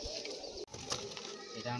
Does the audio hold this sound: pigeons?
yes